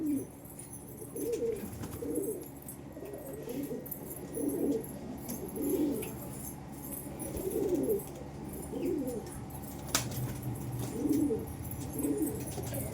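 Domestic pigeons at a home loft, among them a black-green hen, coo in soft repeated rounds roughly every second or two, steady and moderately near against a low background hum.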